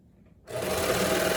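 Sewing machine stitching romper fabric starts up after a quiet moment and runs at a loud, steady whir close by, with a continuous buzzing drone and no talking.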